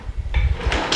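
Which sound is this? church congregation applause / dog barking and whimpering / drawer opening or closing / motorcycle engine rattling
drawer opening or closing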